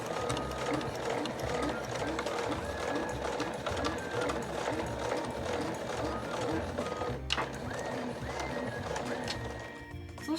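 A sewing machine stitches a body bag with a dense, rapid mechanical rattle that runs steadily and close by, with a brief clack partway through and a few small mechanical clicks near the end.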